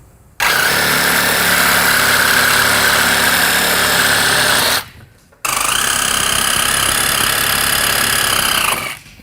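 A loud power saw cuts the master cylinder studs on a 1969 Mustang Mach 1 in a junkyard. It makes two sustained, harsh buzzing runs of about four seconds each with a short gap between them, and there is no talk.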